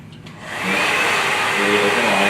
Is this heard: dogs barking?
no